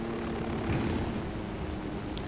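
Helicopter in the Ghost Recon video game, setting down for a landing: a steady, loud rotor and engine drone fills the whole stretch with no break and no talking.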